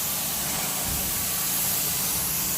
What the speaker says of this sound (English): Look how it's cleaning this commercial-grade carpet right up.